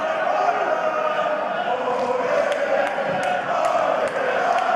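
A stadium crowd at a Bundesliga women's football match between Bayern Munich and Hoffenheim, a steady, dense roar of murmuring voices filling the stands with a few sharper shouts and whistles poking out near the end.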